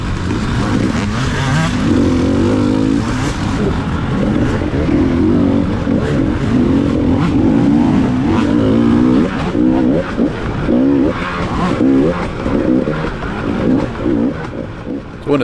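Dirt bike engines roar throughout during a hare scramble race in Hartsville, with a continuous rider's-eye drone that rises and falls as the throttle changes.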